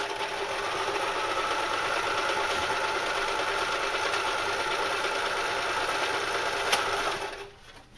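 A sewing machine stitching a knife carrier about 5mm in from the edge, a loud, fast, steady mechanical chatter running continuously before stopping abruptly near the end.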